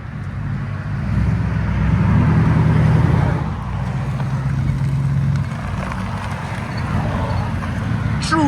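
A 2008 Ford Crown Victoria with a 4.6L V8 and true dual straight-pipe exhaust (2-inch mid, 2.25-inch rear, 3.5-inch tips) idles with a deep, loud burble and a short rev swell.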